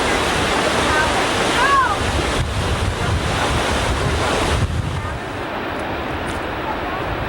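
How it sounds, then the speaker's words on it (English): Rapids rushing above the Upper Falls of the Yellowstone River make a loud, steady roar of churning water with heavy wind buffeting the microphone, and a faint bird call cuts in briefly. "This is the very brink of the upper fall. And these are the rapids above the falls."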